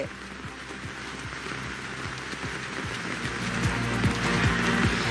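Heavy monsoon downpour in North Bengal near Siliguri, a dense steady roar of rain hitting surfaces with scattered drip impacts, continuous and loud throughout, growing slightly stronger toward the end, with no voices.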